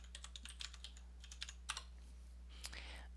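Soft, quick keystrokes on a computer keyboard tap out a short word in bursts, faint and close over a steady electrical hum, with no speech over them.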